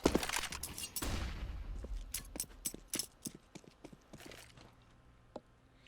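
A flashbang grenade going off in the game CS:GO, with a loud burst at about one second followed by a scatter of sharp clicks, pops and shots of gunfire-like impacts fading out over several seconds.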